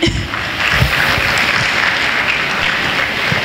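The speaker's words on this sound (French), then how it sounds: "Est-ce qu'on peut les applaudir encore?" An audience at the SUPERWOMAN by AYANA 2021 event applauds in a dense, continuous round of clapping that stays loud and even throughout.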